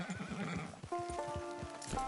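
A horse in Red Dead Redemption 2 gives a short, close whinny with clear tonal wavering, preceded by a quick patter of hoof clops; the game scene is quiet otherwise.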